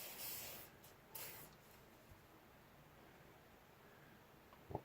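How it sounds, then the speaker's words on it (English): WD-40 sprayed onto a wet Traxxas TRX-4 RC truck transmission in short hissing bursts, two quick sprays near the start then quieter handling and a small click at the end. "spray this with a little bit of WD-40"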